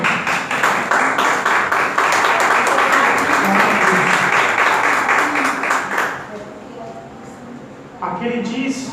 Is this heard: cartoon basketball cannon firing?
no